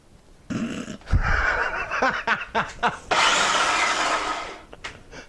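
A blender pureeing tomatoes whirs loudly in bursts, starting and stopping with clunks between, then runs steadily for a couple of seconds before cutting off.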